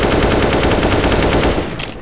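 Rapid automatic gunfire in Counter-Strike: Global Offensive, a dense continuous burst of loud close shots that runs nearly two seconds before tapering off at the end.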